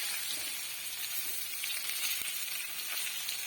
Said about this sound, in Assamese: শুকান জলকীয়াখিনি মই চিঙি দি দিছোঁ